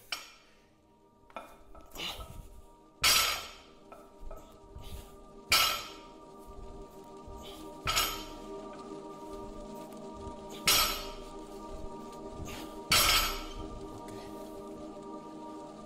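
Steel weight plates clank in a gym as a barbell is loaded for deadlifts, the clanks coming at irregular intervals, each sharp and ringing with a brief decay. A steady low hum sits underneath and there is no talking.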